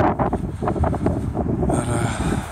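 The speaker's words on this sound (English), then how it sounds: "I hope the wind isn't too bad." Wind gusts roar across an open corn field, a loud, close, rumbling buffet against the microphone that stays continuous with uneven surges.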